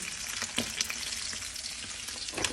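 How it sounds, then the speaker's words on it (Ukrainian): Crucian carp frying in a pan, a steady hissing sizzle with small crackles and pops, close and moderately loud, with no voices. "Так на пательні шкварчать вже мої карасики."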